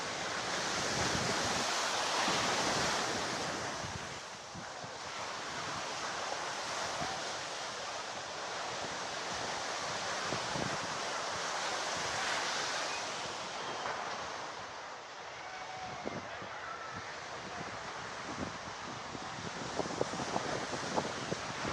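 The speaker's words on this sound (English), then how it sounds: "See how beautiful the waves are?" Surf rolls and breaks steadily along the beach at Ocean City, Maryland, by the boardwalk, a broad continuous wash of waves with wind buffeting the microphone and no talk.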